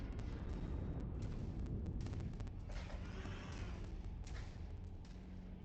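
Gunfire from an enemy mech in modded MechWarrior 5: Mercenaries, a dense rumbling barrage of booms and thuds that continues throughout, loud and close, with no talking over it.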